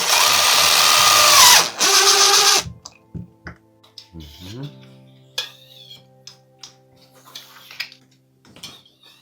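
A power drill drives screws into shower brackets in a loud, sustained whirring burst for the first few seconds, then gives way to quieter scattered clicks and mechanical handling noises.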